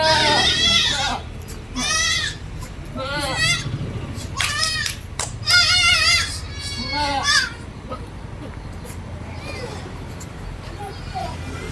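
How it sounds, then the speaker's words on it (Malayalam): Crossbred milking goats bleat repeatedly at a farm livestock market, several wavering calls overlapping in the first seven seconds, loud and close, with children's voices and other people talking in the background. "പാലുള്ള ഒരു ക്രോസ് ബീഡ് വന്ന ആട്."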